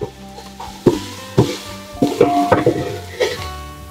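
A spoon stirs banana pieces frying in oil in a pot, with repeated scraping and clinking strokes over a steady sizzle, close and loud.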